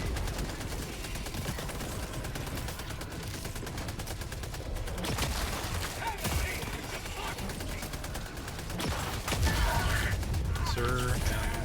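A deployed sentry turret in Helldivers 2 lets loose dense, rapid bursts of automatic gunfire amid battlefield chaos, the shooting steady and loud throughout, with voices talking intermittently underneath.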